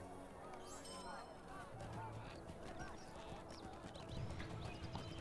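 Rhythmic clip-clop of horse hooves in Lord of the Rings Online, a steady trot under ambient game sounds with occasional whinny-like calls and a voice speaking over the top.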